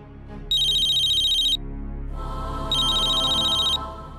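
A phone rings in two electronic bursts of about a second each, separated by a short pause, clear and close with no talking.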